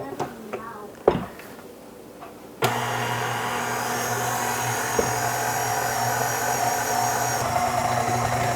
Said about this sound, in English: Now I'm gonna allow the KitchenAid to do the work for me, just on a low setting here.